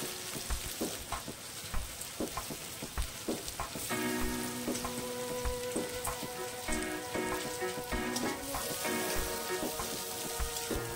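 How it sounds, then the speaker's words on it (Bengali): Chopped onion frying in hot oil in a wok for chowmein: a steady close sizzle with scraping and stirring clatter from a utensil, continuous throughout and alone without talk. "পেঁয়াজটাকে হালকা ফ্রাই করে নেব,"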